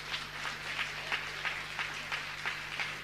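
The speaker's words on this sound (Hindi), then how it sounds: "अगर आपको गौरव लगे तो ताली बजाकर अभिनंदन करना" Audience clapping at a Jain religious discourse, a faint, rhythmic patter of hands recurring about three times per second over a steady electrical hum.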